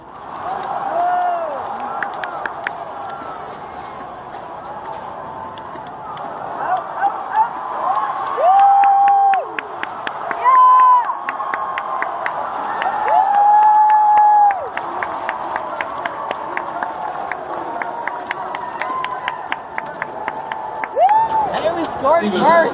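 A stadium crowd at a US versus New Zealand rugby match cheers loudly and continuously, with shouts, whoops and whistles rising and falling over a dense roar.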